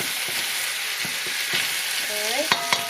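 A pot of beef chili bubbles and sizzles steadily while a spoon scrapes and knocks through it in several strokes, ending with a couple of sharper clanks against the pot.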